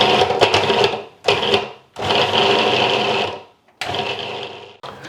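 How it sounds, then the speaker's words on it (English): A food processor on fast speed pulses ground almonds in short, sharp blasts: four loud whirring bursts of uneven length, separated by brief gaps, with a fifth short burst starting at the end. "we're just going to put it on fast speed, but we want to make sure that we do this in short, sharp blasts."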